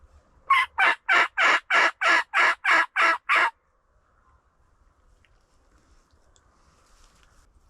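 A wild turkey tom in southern Minnesota during spring hunting season gobbles in a quick run of about nine evenly spaced loud bursts, then falls silent into quiet outdoor ambience.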